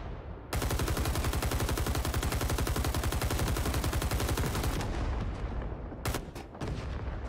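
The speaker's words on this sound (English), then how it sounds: "That's one thing about the heavy machine gun, you can kind of give him that support." A heavy machine gun fires in Rising Storm 2 Vietnam: one long, loud, rapid burst of about four seconds, then a few separate shots after a brief lull.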